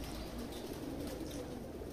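Pigeons of several varieties coo softly in a loft, a low continuous murmur of burbling calls at a moderate distance over steady background hum, with no talk.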